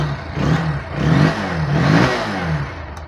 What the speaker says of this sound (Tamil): பைக் ஸ்டார்ட் ஆகுது.